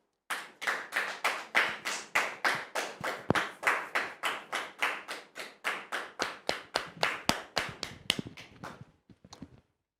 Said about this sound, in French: Merci de recevoir Monsieur Athanase Kofi sous vos applaudissements, s'il vous plaît.